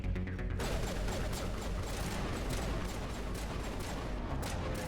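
Rapid gunfire in the video game Mass Effect, dense bursts of sharp shots crackling continuously over a busy low rumble of combat, loud and unbroken for several seconds without talk.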